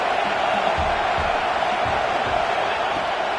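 Home crowd roaring in a college football video game, a dense steady wall of cheering and whooping that holds at one loud level throughout.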